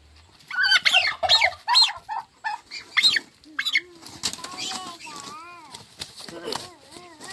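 Turkeys flapping their wings hard while being caught by hand on a Malaysian smallholding: several loud, rapid bursts of beating wings up close, then agitated gobbles and calls, with people talking over the commotion.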